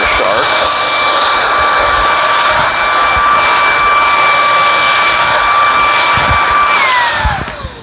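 A Shark vacuum cleaner runs steadily on carpet, a loud continuous whine with a high tonal pitch, then spins down near the end.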